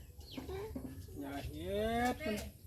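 A chicken clucks in a short run of close, quiet calls, ending in a longer, rising squawk, over a soft background hum.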